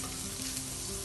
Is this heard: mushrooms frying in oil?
yes